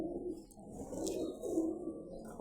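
A male pigeon coos softly nearby in a quiet setting, low murmuring calls running through the short stretch with no talk.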